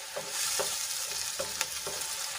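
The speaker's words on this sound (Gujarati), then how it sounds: "હવે એમાં આપણે બે મોટા ટમેટાની પ્યુરી એડ કરીશું અને સરસ રીતે આપણે એને ડુંગળીમાં મિક્સ કરી લઈશું" Tomato puree from two large tomatoes stirred into sautéed onions in a hot pan, a steady sizzle broken by several rhythmic scraping strokes of the spoon, close and alone without talk.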